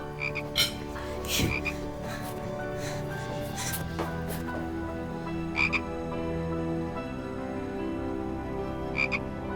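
A frog croaks repeatedly over a steady hum, sounding near and continuous, with several brief bursts standing out above the low background drone.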